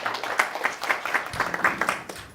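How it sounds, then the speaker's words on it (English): Audience applause after congratulations at a startup talk in Silicon Valley: a dense, steady patter of many hands clapping together for a couple of seconds, fairly close and even in loudness. "Round of applause"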